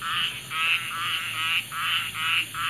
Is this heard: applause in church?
no